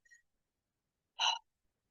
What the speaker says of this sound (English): Take a nice, deep, letting go breath.